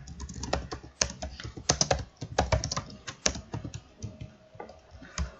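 Rapid, close typing on a computer keyboard while a phrase is entered into a Python program, with dense clacking keystrokes and a few sharper hits and no talking.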